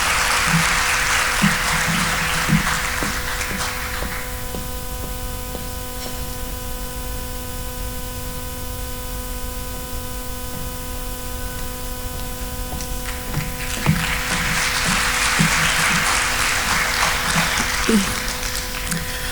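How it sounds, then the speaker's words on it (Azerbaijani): Audience at a charity evening concert applauding, a dense wash of clapping at the start that fades into a long stretch of steady hum and static, then swells again into another burst of applause near the end. "Sizin alqışlarınızla."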